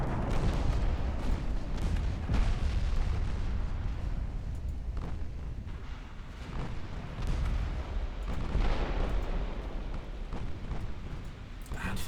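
Naval gunfire in the Ultimate Admiral Dreadnoughts warship game: low, rumbling booms and muffled blasts rolling over a continuous heavy drone, with distinct louder thuds scattered through the stretch and no talking.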